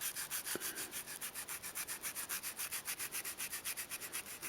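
A brush scrubs rhythmically at chipping paint on a model Toyota FJ40 truck wheel, a close, quiet series of rapid back-and-forth rasping strokes in an even pulse, about five per second.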